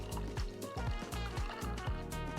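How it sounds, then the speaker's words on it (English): Tea being poured into a cup or glass makes a soft, close trickle, with a faint rhythmic dribbling that comes in repeated bursts. "All right, let's pour some tea."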